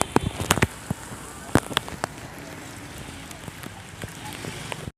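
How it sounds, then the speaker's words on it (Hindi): Rain falling on a road outdoors, a steady close patter and hiss with scattered sharper drop impacts and splashes, loud and continuous. "नानू के पास बारिश भी हो रही है"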